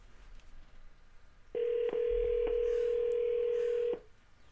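An outgoing telephone call: a steady tone runs for about two and a half seconds with a few brief clicks through it, loud and close, against quiet background hiss.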